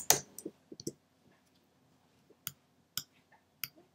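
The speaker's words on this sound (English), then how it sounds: "I'll just type hello." Several sharp clicks from a computer keyboard or mouse, sparse and irregular, close and quiet against near silence.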